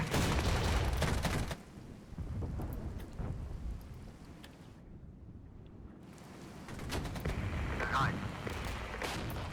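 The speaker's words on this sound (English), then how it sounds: "Let's use some artillery to soften them up." Artillery barrage in the Regiments strategy game during a night raid, with heavy booming, rumbling blasts in a dense opening burst, then a quieter rumbling stretch and a renewed round of explosions.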